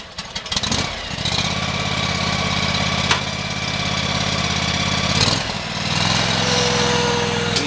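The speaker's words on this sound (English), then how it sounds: "Let's start up the tractor." A John Deere tractor-mounted sweeper's engine cranks briefly, catches and settles into a steady, loud mid-pitched running drone, with a sharp clunk midway and a surge in revs near the end; no talk.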